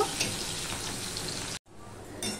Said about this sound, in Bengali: রসুনটা লাল লাল হয়ে ভাজা হয়ে গেছে